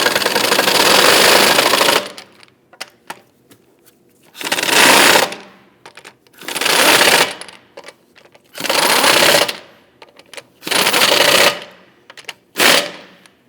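A power tool snugs down bolts on a Volvo XC60 (2009-2017) during rear shock replacement, heard as five loud bursts of rattling whir, each about one to two seconds, separated by short quiet gaps with faint clicks.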